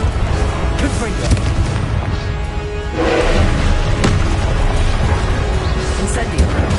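Confringo blasting fire spell cast in Hogwarts Legacy, a loud booming burst swelling midway over dense, continuous game battle noise, with a couple of sharper thuds and a voice speaking.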